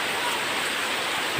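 Heavy monsoon rain pours down in Rajbari district, Bangladesh, in late August: a steady, dense, close hiss that holds the same level throughout, with no talk.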